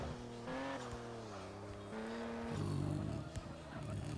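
Race car lapping in the driving game Real Drift, its engine tone rising and dropping steadily through gear changes, with brief tire squeal and a rougher, louder stretch near the end.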